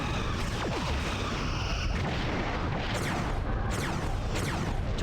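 Star Trek: Bridge Commander torpedo launches and explosions fill the space battle with loud, continuous booming blasts and rumbling impacts, with sweeping whooshes cutting through near the end.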